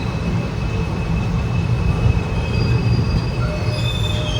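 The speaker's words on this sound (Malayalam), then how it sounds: "അപ്പുറം കിടക്കുന്ന ആ ഒരു LHB rake 126-84 number SMVT Bengaluru Ernakulam junction super fast express ആണ്" Indian express train with an LHB rake at Ernakulam Junction, a steady loud rumble of rolling coaches with faint high wheel squeal running throughout, no voices.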